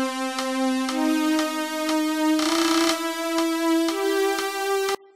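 Short synthesized melody in a custom scale, a sustained tone stepping up in pitch through several notes with small attack clicks, loud and alone, ending abruptly.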